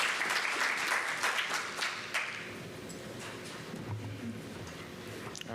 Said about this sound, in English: let's give Reed Kenny a round of applause